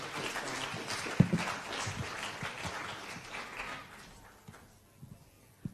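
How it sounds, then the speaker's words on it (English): A school audience claps for student presenters, a moderately close, ragged applause that thins out and fades toward the end, with a few isolated claps. "Let's have a big round of applause for these guys."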